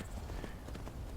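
A horse's hooves clip-clop in Skyrim, a quick run of soft, even thuds over a broad wash of ambient noise, fairly faint and without talk.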